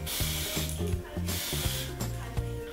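Short hissing bursts of a makeup spray mist, repeated a few times, over steady background music.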